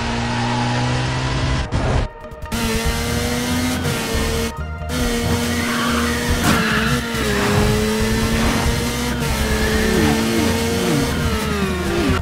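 A car in Need for Speed Most Wanted driving on, with a steady engine drone and tire noise that continue throughout, loud and close, with no talk.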